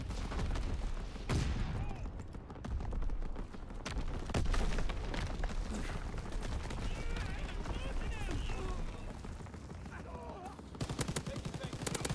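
Artillery and gunfire in a Call of Duty match: dense, continuous bursts of explosions and shots keep crashing loudly for the whole stretch, with a brief lull before a final cluster of sharp blasts.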